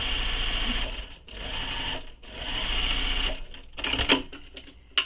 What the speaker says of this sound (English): we're going to sew this with the seam allowance given in the pattern. All the way across that top edge